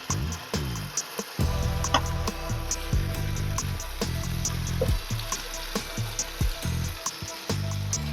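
Ghevar batter hits hot ghee in an appe pan, setting off a steady loud sizzle and bubbling fry with repeated sharp ticks and spatters throughout, no voices.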